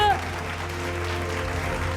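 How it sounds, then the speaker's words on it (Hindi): Applause honouring an honoree fills a Bhojpuri awards stage, an even wash of clapping over a held musical tone, with a brief voice at the very start. "एक बार फिर से जोरदार तालियों के साथ सम्मानित कीजिए आप"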